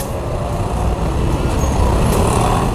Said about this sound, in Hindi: अब ट्रैफिक तो दबा के है भाई साहब।